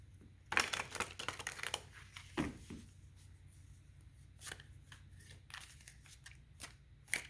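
Tarot cards are drawn from a deck in a quick series of crisp slaps and shuffling flicks, close and quiet, with brief pauses between bursts.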